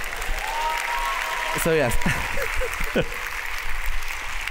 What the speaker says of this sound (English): big round of applause for the lady who admitted it